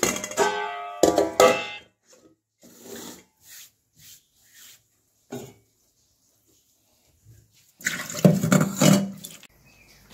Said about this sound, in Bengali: বাসন ধোয়া হয়ে গেছে, আটার কোটো ধুয়ে ফেললাম।